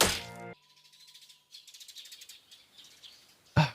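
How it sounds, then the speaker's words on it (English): Birds chirp in quick, high trills, with a short rattling burst at the start and a sharp crack near the end. "Gotta love the sounds of birds."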